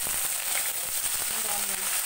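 Red chilies and curry leaves dropped into hot oil in a pan for South Indian drumstick sambar, giving a continuous close hiss and light crackle over two seconds.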